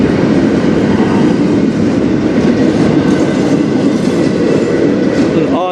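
A train rolls past very close and loud, a steady heavy rumble of wheels on rails with rattling clatter that continues throughout.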